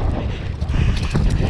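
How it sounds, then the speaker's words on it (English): Wind buffets the microphone during a mountain bike ride on a wet trail at Marist Park, Mount Gambier, a close, gusty low rumble that swells and fades unevenly. "And it is a bit windy too."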